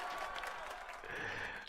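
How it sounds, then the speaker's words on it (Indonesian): A short burst of applause from a small group, fairly faint and steady throughout. "Tepuk tangan dulu teman-teman."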